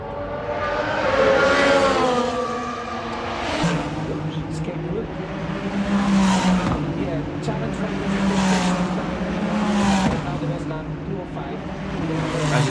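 Formula One race cars at the Las Vegas track: high engine whine rises and falls repeatedly through the clip, with voices and crowd noise mixed in around it.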